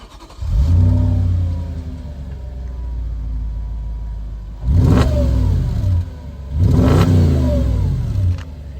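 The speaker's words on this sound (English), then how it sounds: "I said it's a nice V8 rumble in this car." An Audi S4 DTM Edition B7 V8 fires up with a deep rumble and settles into idle, then gives two strong throttle blips, each rising and falling, close and loud with no talking.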